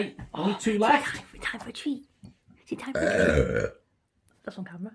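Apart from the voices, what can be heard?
burping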